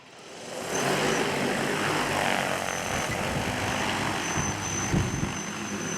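A 60-litre agricultural spraying drone spins up and lifts off outdoors, its rotors building quickly into a loud, steady broadband roar that holds for several seconds.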